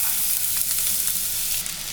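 Garlic sizzling and frying in hot oil with popped mustard seeds and fennel, a steady close crackle with small pops throughout and no talk.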